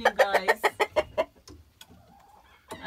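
Hens and a rooster cluck in a rapid, rhythmic run of short calls as they are let out of the coop on a homestead in the morning. A quieter stretch follows before another cluck starts at the end.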